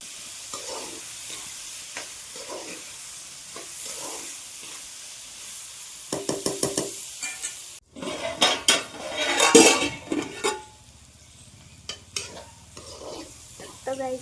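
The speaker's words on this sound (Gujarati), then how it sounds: "ચાલો હવે હું શાક વઘારી દઉં" A sharp burst of sizzling as drumstick pods and pigeon peas hit hot oil for tempering, with metal spoon stirring and clinking against a pan before and after.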